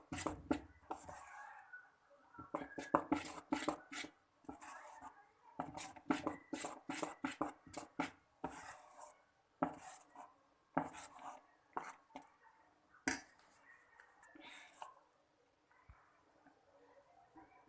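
Bonda batter with salt is mixed by hand in a bowl, giving a steady run of wet slaps and soft squelches, close and fairly quiet, with brief pauses.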